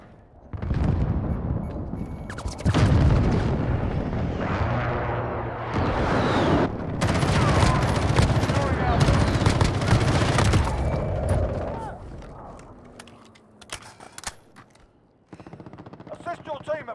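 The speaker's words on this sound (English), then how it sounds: "Enemy precision airstrike," Precision airstrike explosions and rapid gunfire in Call of Duty Modern Warfare beta multiplayer: booming blasts and dense machine-gun bursts crowd the first twelve seconds at close range, then thin out to scattered shots. A voice speaks over the combat.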